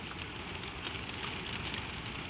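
Gentle rain falls steadily on a surface, a dense, even patter with no talk.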